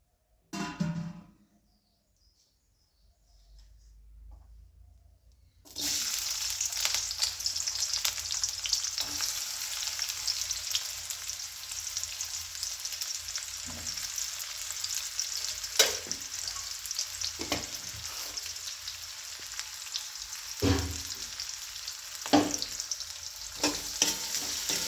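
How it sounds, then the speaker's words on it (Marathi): Whole spices tempering in hot oil in a kadhai, the same pan used for roasting onions, for homestyle chicken masala: after a quiet start, a loud steady sizzle and frying hiss runs continuously, with occasional spatters and stirring knocks. "तेल गरम झाल्यानंतर आपण फोडणी देऊया."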